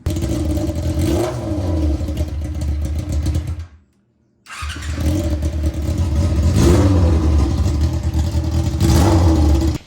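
A Yamaha R6 motorcycle engine with an aftermarket exhaust runs loudly and close, cutting out briefly before roaring back and revving through to the end.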